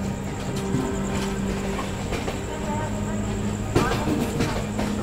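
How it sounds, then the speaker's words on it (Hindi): The North East Express moves at the Danapur railway station platform, with a steady low rumble of rail cars, a brief clank near the end, and people talking over the busy platform noise. "दानापुर के प्लेटफॉर्म नंबर 1A पे नॉर्थ ईस्ट एक्सप्रेस को लिया जा रहा है"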